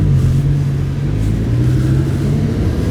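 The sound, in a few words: Lamborghini Huracán LP610-4 stock exhaust revving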